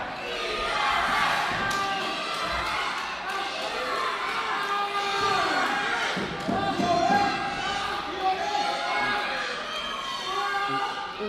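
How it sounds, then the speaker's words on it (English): A wrestling arena crowd during an opening match chants and cheers loudly in rhythmic waves, with shouts, claps and occasional thuds from the ring, full and close throughout the hall. "Well, listen to this crowd."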